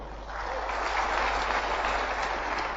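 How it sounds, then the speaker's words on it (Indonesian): A room full of people clapping for Kelly, a dense, even roar of applause that swells in over the first moment and then holds steady without any talk on top. "Tepuk tangan dulu untuk Kelly."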